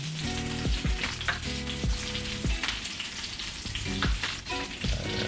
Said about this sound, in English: You can see you got the chicken frying over there.